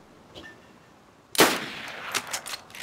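Gunfire from the survival video game DayZ, near Kamyshovo, arrives as a sudden sharp crack followed by a few quicker, fainter shots and echoes after a quiet start.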